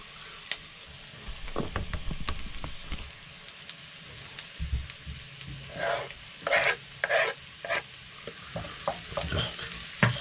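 Garlic and ginger fry in a pan for a veggie curry, crackling and sizzling steadily up close, with louder bursts of spitting as the pieces are stirred around.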